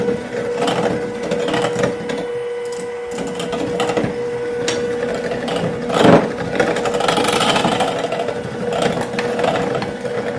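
An electric mixer beats erythritol sweetener into a homemade ice cream base, a continuous close motor whir with a rattling mechanical texture and small changes in load.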